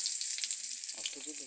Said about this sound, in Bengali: তার জন্য পেস্টটাকে ভাজবো